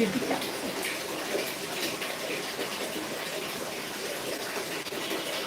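Water pouring steadily from a tap into a container, a continuous hissing rush heard up close with little variation and no clear speech.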